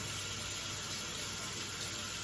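Tap water runs steadily into a big bowl while greens are washed for Hmong boiled pork, a continuous even rush of splashing water with no talking over it.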